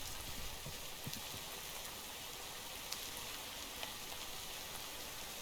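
Rain falls in the video game Minecraft, played in the Minecraft Eternal modpack, as a quiet, even hiss with occasional faint droplet ticks, uninterrupted and without voices.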